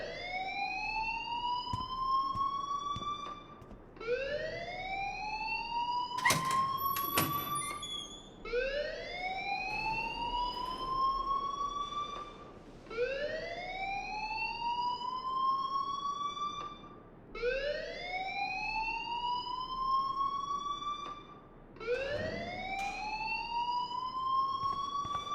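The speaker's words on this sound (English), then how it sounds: "please turn off that alarm since that's your job" School alarm in the Life is Strange video game, a loud repeating electronic siren whose tone sweeps upward in cycles of about four seconds, continuing without pause, with faint clatter between some cycles.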